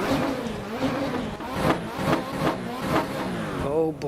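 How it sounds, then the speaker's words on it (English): A racing car engine in a driving game, the revs climbing and dropping quickly in repeated sweeps, loud and close, with some talk over it. "Oh boy, listen to how fast the revs climb and then drop."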